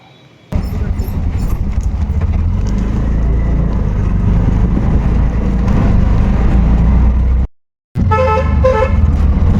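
A small motor vehicle's engine drones steadily and close, with busy traffic around it and repeated horn toots. It drops out briefly, then the honking returns.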